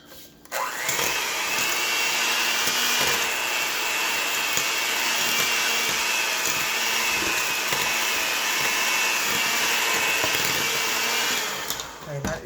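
Electric mixer beating cheesecake batter with eggs, a steady loud whirring drone that runs without a break for about eleven seconds before stopping.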